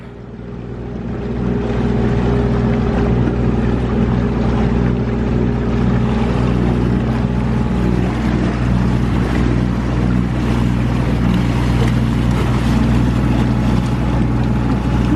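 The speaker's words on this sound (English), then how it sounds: "Let's see how the dinghy handles some wake." A boat motoring through wake while towing a dinghy on the Atlantic Intracoastal Waterway, a loud continuous engine drone with rushing water and wind noise throughout.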